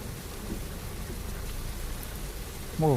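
Heavy rain pours steadily over a flooded pond where water mimosa grows, a dense, even hiss close by, with a brief voice at the very end.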